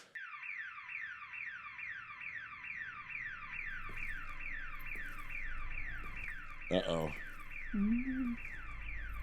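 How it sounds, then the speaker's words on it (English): A car alarm blares continuously in a fast, repeating sweeping whoop, heard from a distance at an even level, while a person briefly speaks over it near the end. "Whose car's alarm's going off?"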